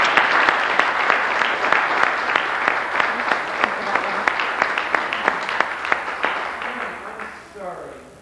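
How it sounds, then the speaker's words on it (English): Sustained audience applause for a church youth choir in Thomaston, Maine, dense steady clapping with a few sharp nearby claps, fading toward the end. "Give them a big round of applause."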